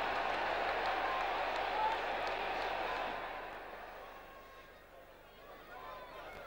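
A big crowd at a Middlesbrough football match roars and murmurs in a broad wash of stadium noise that swells, then recedes into a quieter rumble, heard at a distance.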